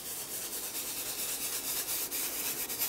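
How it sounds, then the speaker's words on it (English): A baby wipe rubbed around a mixed media art journal page gives a steady, soft, close scrubbing hiss that continues without pause, with no voices. "with a baby wipe, I'm just going to rub around"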